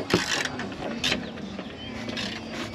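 Metallic ratcheting and clicking of a wrench as the last nut comes off a shock bolt during a 2.5-inch leveling kit install on a 2016 Ford Explorer XLT, with short bursts of tool noise close by and no talking.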